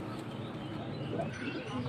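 Soft, low cooing of pigeons nearby, murmuring over a quiet background hum with faint speech-like sounds.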